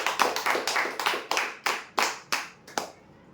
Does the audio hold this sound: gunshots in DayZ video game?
no